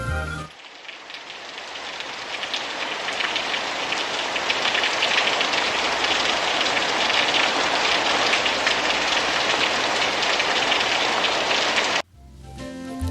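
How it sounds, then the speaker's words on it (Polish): Steady, loud rain pours down in a continuous hiss of drops on surfaces, swelling in at the start and running unbroken for about twelve seconds before cutting off abruptly. "Tak, to deszcz."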